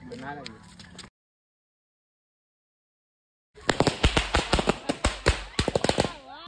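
Firecrackers set off by hand in a village during Diwali pop in a rapid crackling string of sharp close bursts, following voices talking and a stretch of silence.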